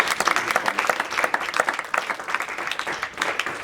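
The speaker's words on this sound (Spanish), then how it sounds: "Denle un aplauso, Señor." A church congregation claps steadily through a bilingual Sunday service, with dense, continuous applause that holds level for several seconds, close and lively.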